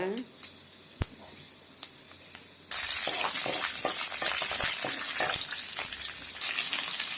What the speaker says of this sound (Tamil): சிறிதளவு எண்ணெய் விட்டு கடுகு போடுங்க. கடுகு நல்லா பொரியட்டும்.